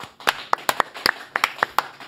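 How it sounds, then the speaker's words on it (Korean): A few people clap sparsely in a studio to welcome a guest, with about a dozen sharp, irregular claps close by. "황운하 의원 박수로 맞이합니다."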